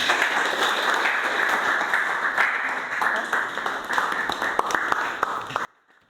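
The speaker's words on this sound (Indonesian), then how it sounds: "Tepuk tangan dulu, tepuk tangan." Audience applause at a student journalism training event in Kaltara, a dense steady wash of clapping lasting several seconds before stopping abruptly, with some talk mixed in.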